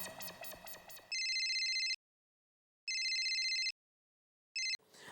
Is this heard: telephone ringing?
yes